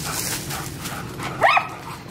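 A single dog bark, fairly close, against a busy outdoor background of voices and noise.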